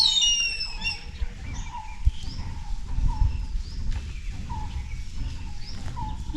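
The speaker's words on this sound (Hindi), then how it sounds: "कितनी सारी बर्ड्स की आवाज़ें आपको सुनाई दे रही हैं।" Many birds call in the Corbett jungle: repeated short chirps and high whistles from several directions, some near and some far, over a low rustling background.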